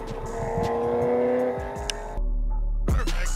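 BMW E92 M3 with primary catalytic converter and resonator delete, a loud, close V8 exhaust holding a steady drone, then a brief lift before a sharp rev blips back up.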